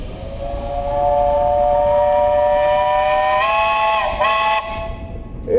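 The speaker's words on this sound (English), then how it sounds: "do you have a whistle on that engine?" A steam traction engine's whistle blows one long, loud, sustained note that shifts slightly in pitch before cutting off, with engine noise rumbling underneath, at a steam threshers' parade.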